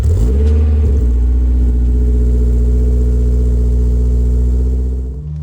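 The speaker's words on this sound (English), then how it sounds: "So let's go, let's take out the S2000" A Honda S2000 engine revs hard at first, then settles into a loud, close, steady drone as the car pulls away, the sound easing off at the end.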